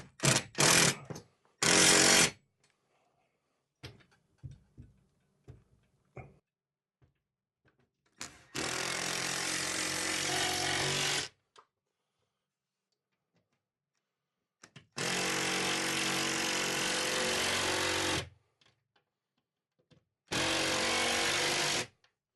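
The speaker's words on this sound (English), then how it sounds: "Go ahead and drill the 2 pilot holes." A power drill with a 13 mm bit drills two pilot holes for an overhead garage storage rack, running in three sustained bursts of a few seconds each, loud and close, separated by quiet pauses and small handling clicks.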